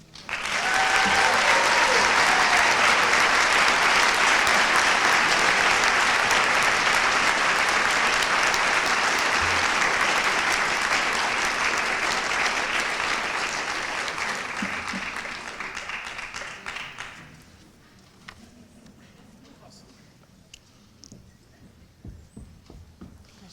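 Sustained audience applause, dense and loud for about fifteen seconds, then fading to scattered claps and a quiet room.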